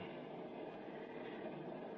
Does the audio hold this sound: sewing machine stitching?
no